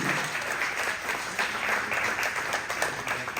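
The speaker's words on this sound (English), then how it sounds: "Let's clap for them, because without them, we couldn't do what we're doing." A convention audience at the Bell County Democratic Convention claps steadily with dense, even applause that stays loud and unbroken throughout, with no voices on top.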